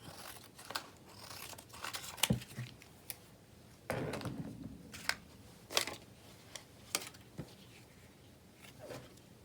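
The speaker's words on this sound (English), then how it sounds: "First, let's cut the bottom off a bit." Scissors snip through the bottom of a thin paper napkin or toilet paper in a crafting session, giving a series of short, sharp clicks and crisp paper cuts spaced irregularly with brief rustling between them, close and fairly quiet, with no talking.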